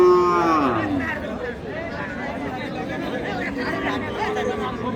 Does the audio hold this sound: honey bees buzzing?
no